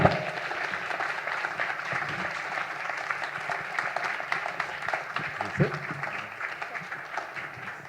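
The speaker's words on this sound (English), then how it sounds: "Nice round of applause" An audience at a healthcare symposium applauds after an educational skit about early-onset Parkinson's disease. Sustained, fairly close clapping from a crowd continues for several seconds with a few scattered voices mixed in.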